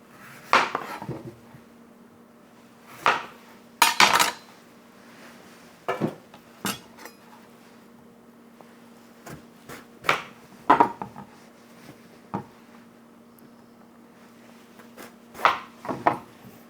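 A sharp kitchen knife chops through a delicata squash on a cutting board in a home kitchen, giving a scattered series of crisp, sharp knocks and thuds with quiet pauses between them, close and fairly loud, with no voices.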